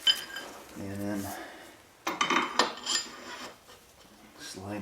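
A greased axle sliding through a rear wheel hub while a tire is changed, a short metallic scrape and clunk rising between brief stretches of someone talking.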